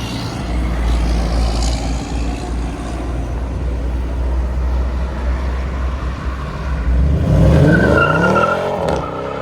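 A 2023 Dodge Challenger 5.7L HEMI V8 with Flowmaster Super 10 mufflers rumbles steadily, then revs hard and roars as it accelerates away, the engine note climbing and fading at the end.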